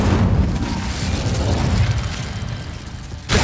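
A roaring, rumbling burst of fire from the Incendio spell in Hogwarts Legacy, loud and sustained across the moment with mechanical clatter, ending in a sharp bright pop.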